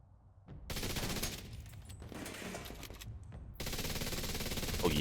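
FAMAS rifle firing in The Division 2, long sustained automatic bursts broken by a brief pause, loud and close, with no talk over them.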